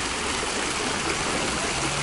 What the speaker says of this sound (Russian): И вот фонтан, про который я вам говорил. Вода стекает по стене.